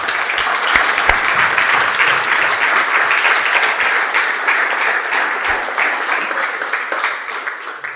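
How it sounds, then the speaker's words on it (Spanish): A church congregation applauds the Lord during a Spanish-language sermon, a steady dense wash of clapping lasting throughout, fairly loud and close, with no talking over it. "Dale un aplauso al Señor para que no te duermas"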